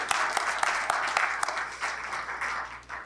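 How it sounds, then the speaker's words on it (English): Audience applause at a college presentation, a short, moderately loud round of crowd clapping with a few sharper individual claps standing out near the start. "can we give us all a round of applause?"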